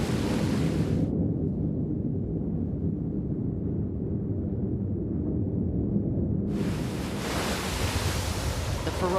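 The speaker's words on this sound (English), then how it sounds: "The menace starts with an ocean storm." An ocean storm: a steady, loud roar of wind and crashing surf fills the whole span, with broadband wave wash at the start and end and heavy low rumble throughout.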